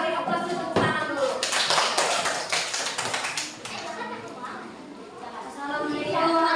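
Students in a classroom applauding together, a burst of dense clapping that swells and then fades, with voices talking around it.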